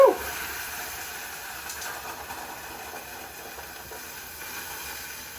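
Baked beans sizzle in a hot pan, a steady close hiss and crackle that opens with a brief louder burst, then settles into an even simmering sizzle.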